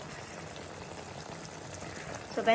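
Food left to cook in a pot of boiling water gives a faint, steady bubbling hiss close by, with a small clink near the end.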